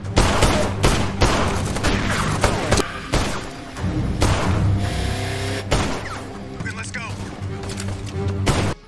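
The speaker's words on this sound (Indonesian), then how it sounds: "Logan yang sedang berlari menuju mobil terkena selongsong peluru dari pistol yang ditembakkan oleh Simon." Pistol gunfire in a film scene about a diamond heist, with several loud sharp bursts and thuds over a dense, busy soundtrack of music and effects, and voices mixed in throughout.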